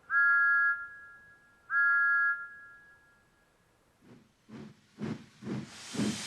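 A cartoon steam locomotive, Henry, gives two short whistle-like tones, then after a pause lets out a run of puffing steam hisses that grow brighter and more rushing, with no talk.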